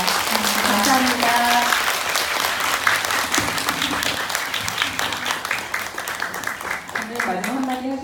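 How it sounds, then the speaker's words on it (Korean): Steady applause from a large audience fills a cinema during a film screening Q&A, with a voice speaking over it at the start and again near the end. "박수 한번 크게 드리면서 감사드리도록 하겠습니다"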